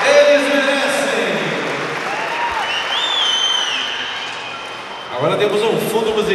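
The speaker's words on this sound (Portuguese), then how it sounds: "Mais palmas." Warm, sustained applause fills a school ceremony hall in Artur Nogueira, steady broadband clapping from a large crowd with cheering voices rising near the end.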